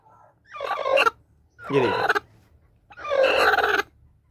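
A broody hen calls in three drawn-out, harsh clucking bursts with pauses between them, loud and close, while someone briefly speaks over the start.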